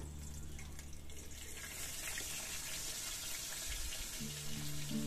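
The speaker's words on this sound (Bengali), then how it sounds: "আর এর সাথে অ্যাড করব 1 কাপ মতো জল। জলটা অ্যাড করা হয়ে গেছে।" About a cup of water is poured into poppy seed paste in a pan of oil while making posto ilish, a steady close splashing flow that grows slightly louder midway, alone without talk.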